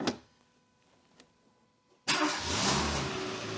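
A Renault Clio 2 engine cranks and fires after a couple of seconds of near silence with faint clicks, then settles into a loud, close idle that holds steady to the end.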